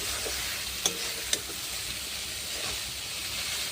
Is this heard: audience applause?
no